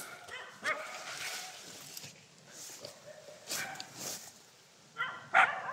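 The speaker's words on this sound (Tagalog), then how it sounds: "Nalaram ang kalaban sa kahol ng aso." Several dogs barking, yipping and whimpering at a distance, in scattered bursts over a faint outdoor background, with one sharper yelp near the end.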